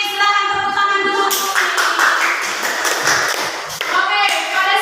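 A classroom of students claps hands together in a steady burst of applause lasting a few seconds, close and fairly loud, with a tonal hum underneath and the clapping fading toward the end.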